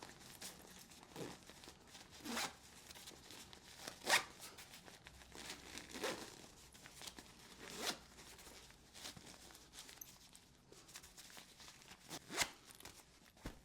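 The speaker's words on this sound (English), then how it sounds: "And then we'll move on to the compression zipper." Repeated zipper pulls on a packing cube's compression zipper, short rasping zips in bursts with pauses between, close and fairly quiet, as the compact cube is zipped shut.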